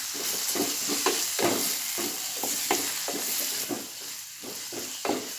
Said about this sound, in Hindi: तेल में ये प्याज हल्की ब्राउन हो गई है। इसमें अब मैं टमाटर डालूँगी।